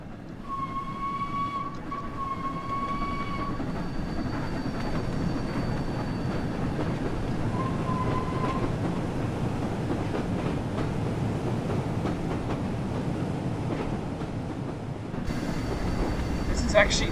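The Flying Scotsman steam locomotive hauls Mark I coaches past on the West Somerset Railway in a train game, a steady rumbling roar of wheels and engine with a brief whistle tone early on.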